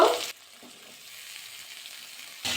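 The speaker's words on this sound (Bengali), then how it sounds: "এবার পেঁয়াজের মধ্যে অ্যাড করে দেবো এক একটা করে সবজি প্রথমে দেবো আলু তারপরে গাজর তারপরে অ্যাড করে দেবো মূলো" Potato, carrot and radish frying with onions in a pan while cooking a Bengali pui mitul chorchori, a loud sizzle at the start and end with a quieter steady fry in between, no talking.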